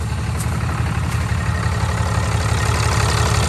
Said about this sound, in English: So we're gonna let this truck warm up